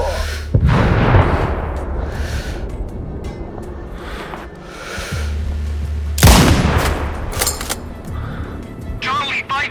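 Heavy booms and bursts of gunfire erupt in the video game Sniper Ghost Warrior Contracts 2 against a constant rumbling backdrop, with a sharp loud blast partway through.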